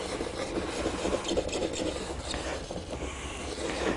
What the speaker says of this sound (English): You can just get in those grooves with that wax and just burnish those fibers down.